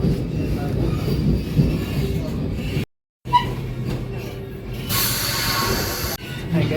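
Mysore Vande Bharat Express rolling through a station without stopping, heard from onboard as a loud continuous rumble with rattling wheels and a brief high squeal, cut by one short gap of silence.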